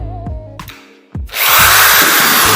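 A Benz Werkz BZ-8215 polishing machine gives a few short whirring bursts as it is switched on and off, then spins up to a loud, steady close whine that runs to the end.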